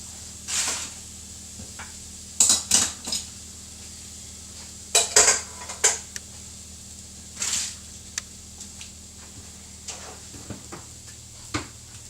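Metal pans clattering and scraping as they are swapped between rings on a kitchen hob, several sharp clanks in bursts with quiet gaps, close by, no talk.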